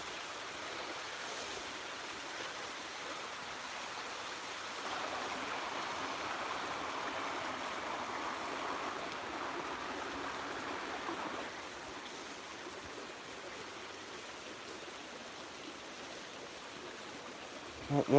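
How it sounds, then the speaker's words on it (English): Water running down from a waterfall near a tunnel, heard as a steady broadband rush that holds at an even level throughout, with a slight swell partway through. "Water's coming down that side, so fountain, waterfall at that side must be running."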